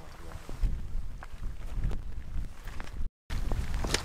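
Strong northeast wind buffets the microphone outdoors during a wilderness fishing trip for trout and grayling, a continuous rough rumble with gusts and faint handling bumps, briefly cut out once.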